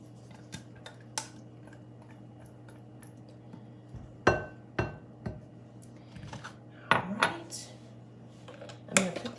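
A utensil scrapes heavy cream out of a container in a home kitchen, giving sparse, irregular clinks and short scraping strokes, a few louder knocks clustered toward the end, close up and with no talking.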